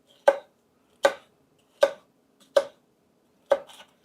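Five crisp, evenly spaced knife chops through a bell pepper strip on a cutting board, each a sharp close thunk followed by silence.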